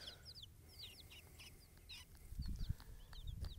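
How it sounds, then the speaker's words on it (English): Chickens cluck and chirp steadily nearby in a backyard play area, with soft, dull knocks of pecking against the camera in the last second or so. "Asking those chickens why they're pecking me."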